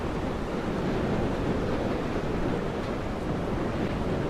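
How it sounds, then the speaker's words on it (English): Gusting wind and rolling surf on a bleak island coast in the game Dear Esther, a steady, dense roar that holds at even loudness throughout with no voices. "Oh my god, it's very windy now."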